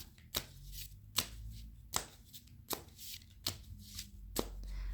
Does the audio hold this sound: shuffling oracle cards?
yes